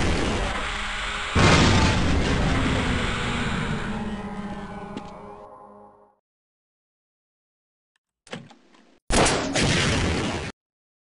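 Missile explosions in the video game Half-Life: a loud booming blast with a long fading rumble, then silence, followed by a short burst and another sharp explosion that cuts off abruptly.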